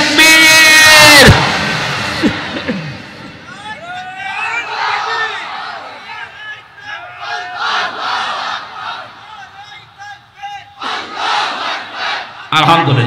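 A large crowd at a political rally in Bangladesh shouts a takbir response in unison, a loud massed roar at the start, followed by scattered voices and cheering further off, with more shouting near the end.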